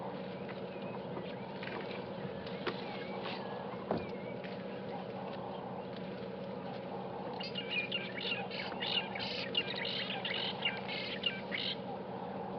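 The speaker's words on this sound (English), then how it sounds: "That robotic bird call that you can hear was from those birds that just flew off from there." Fork-tailed drongos give robotic, metallic chirps and squawks at sunrise on a safari drive, moderately near and growing busier toward the end over a steady vehicle rumble.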